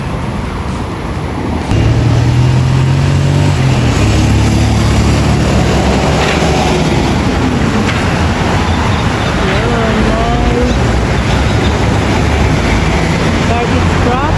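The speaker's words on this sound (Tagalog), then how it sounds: "Garbage truck." A garbage truck passes on a city road in Singapore with a loud, heavy engine roar and droning rumble that rises after a couple of seconds and holds steady, close and dominant over traffic noise.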